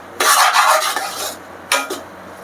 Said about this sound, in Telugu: ఈ బట్టర్లో వేయించుకుంటే ఆయిల్ అంతా వదిలే వరకు కూడా ఇలాగ మంచిగా వేయించేసుకోవాలి